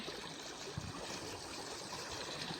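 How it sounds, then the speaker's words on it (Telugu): Water flowing steadily down a channel from higher ground toward buffalo stalls, a constant close rushing trickle with no voices. "వాటర్ అంతా కూడా ఆ పైనుంచి వస్తుందండి వాటర్ మొత్తం"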